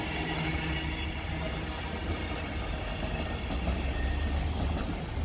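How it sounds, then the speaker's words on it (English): A long freight train, apparently hauling stone, rolls through Raynes Park station on the South Western Main Line with a loud, continuous rumble and clatter of wagons and no voices over it. "Oh, I've got quite a long train here. Looks like stone or something."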